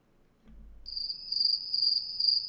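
Crickets start a steady, high, shrill chirping after a brief near-silent moment, holding a continuous trill at a moderate, fairly close level with slight pulses in intensity and no talking.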